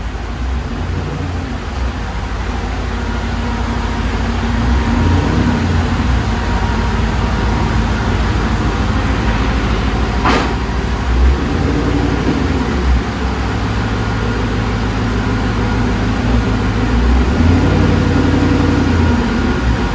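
A Murcielago kit car with an LS4 engine idles through its stock exhaust before a muffler delete, producing a deep, steady rumble, close and loud, with a brief sharp click near the middle.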